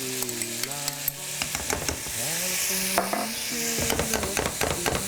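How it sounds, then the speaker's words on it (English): Minced garlic sizzles loudly in hot butter in a pan while a spoon scrapes and stirs it in quick, repeated strokes. A faint voice or tonal sound runs underneath the frying. "We're going to put a bunch of garlic. This is minced garlic that we're putting in."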